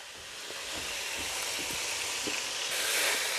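Seasoned beef with salt, pepper and garlic frying in a pan for lomo saltado, a steady close sizzle and hiss that grows slightly louder, with soft stirring clicks and no talking.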